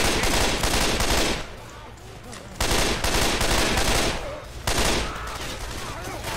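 Rapid bursts of gunfire from weapons in the video game Left 4 Dead 2, loud and close, coming in several dense volleys separated by brief quieter gaps.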